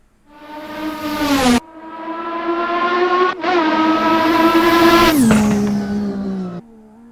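A high-revving race car engine in the video game Assetto Corsa screams loudly, climbing in pitch, cutting abruptly at gear shifts, then dropping to a lower drone near the end.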